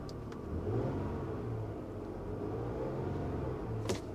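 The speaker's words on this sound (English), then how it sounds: "Let's give it a little rev." A Cadillac ATS-V's engine idles with a low rumble and then swells into a short, moderate rev that holds steady before easing off, heard close by with no talking.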